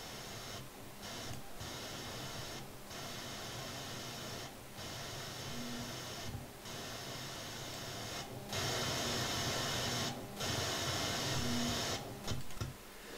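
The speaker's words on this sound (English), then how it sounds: "a metering system pager." A metering system pager transmission on 433/868 MHz heard through a radio receiver as a steady hiss of static and digital noise, broken by repeated short dropouts and faint tonal bursts, with no voice present.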